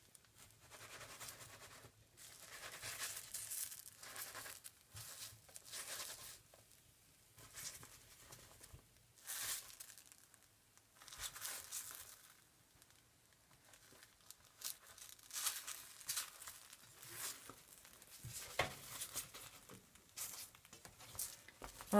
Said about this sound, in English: I'm starting to cut it in a smaller piece.